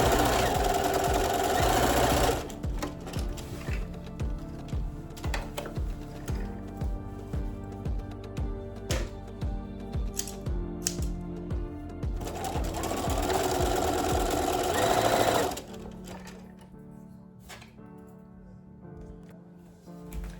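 A sewing machine sews shorts in alternating passages: a fast continuous whirr, a stretch of slower distinct stitch thumps, another fast run, then a quieter tail of handling sounds.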